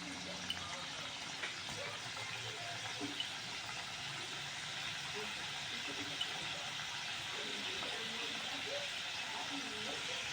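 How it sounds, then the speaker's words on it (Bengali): Besan bhujia fries in hot oil on a low flame, making a soft, continuous bubbling hiss with occasional small pops, steady and fairly quiet throughout. "তা চলো এক এক করে দিয়ে আমি এটাকে ভেজে নেবো একদম লাল লাল করে"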